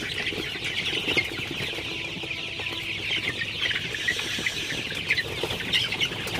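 Sonali super hybrid chickens, 33-day-old chicks, clucking and cheeping together in a flock, a steady busy chatter with occasional wing flutters throughout.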